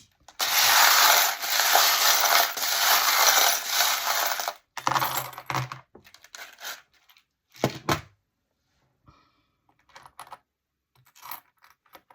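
Small metal charms are shaken and jingled together for a divination reading, a loud continuous rattling for about four seconds, then scattered clinks and taps as they settle and are handled, close up with no talking.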